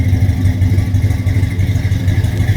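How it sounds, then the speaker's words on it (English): Deep, throaty V8 engine of a 1972 Oldsmobile Cutlass Supreme idling with a steady, lumpy rumble and slight rhythmic lope, close and fairly loud. "Not obnoxious, just that nice muscle car sound."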